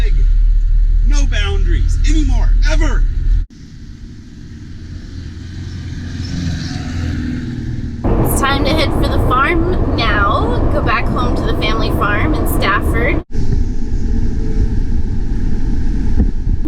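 A 4x4 van RV driving through sand dunes in Kansas: a low engine rumble and wind buffeting on the microphone, with people talking over it in bursts and the sound cutting abruptly between sections.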